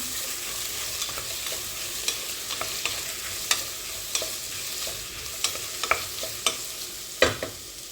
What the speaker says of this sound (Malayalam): ഇനി ഈ ഇഞ്ചി വെളുത്തുള്ളിയും പച്ചമുളക് വരുന്നത് ഇടാം അതൊന്ന് നന്നായി വഴറ്റി കൊടുക്കാം